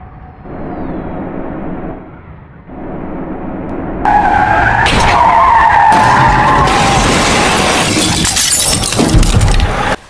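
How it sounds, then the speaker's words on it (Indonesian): A bus in the Bus Simulator Indonesia driving game skids and crashes into a ditch: a steady engine drone gives way to a loud, sustained tyre screech, then harsh impact noise with shattering glass near the end, with no talking. "Detik-detik kecelakaan bus terperosok ke dalam parit"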